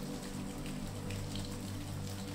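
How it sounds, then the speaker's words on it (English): Steady rain falls through a stormy night outside a castle, a dense, even patter of drops with no voices, holding a constant level throughout. "You listen to the rain continue to fall and feel enchanted by the hypnotic rhythm"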